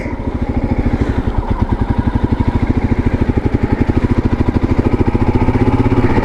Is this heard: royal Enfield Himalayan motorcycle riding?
yes